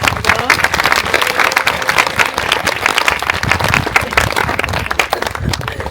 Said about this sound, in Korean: 함께 영광의 박수 드리겠습니다.